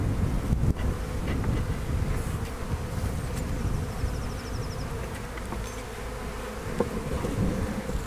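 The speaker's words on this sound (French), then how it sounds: "pour pouvoir ouvrir la ruche sans blesser d'abeilles." Honey bees buzz from an opened beehive during a spring hive inspection, a dense, continuous droning swarm heard up close with light wind buffeting the microphone.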